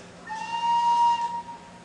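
Shrill, thin squeak from a flute played with its finger holes not fully covered, a steady whistling tone held for about a second over a faint background hum.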